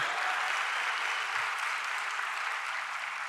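A large crowd at a political event applauds for a former Maharashtra chief minister, a dense, even wash of clapping held at constant level, somewhat distant and without talk.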